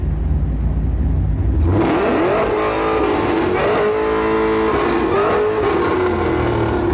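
A supercar engine on display at the Beaulieu Supercar Weekend show revs hard several times, rising and falling in pitch over a loud, steady idle, close by with no talking.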